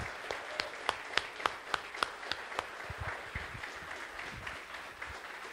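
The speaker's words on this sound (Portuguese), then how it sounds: "Glória a Deus, palmas ao Senhor." Congregation applause at a church service, quiet scattered clapping with several sharp, distinct nearby claps in the first half, then a softer, thinning patter.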